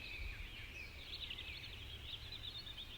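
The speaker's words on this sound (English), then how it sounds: "The song of birds" Birds singing in a peaceful nature setting, a faint, continuous high warbling chorus over a soft low background rumble.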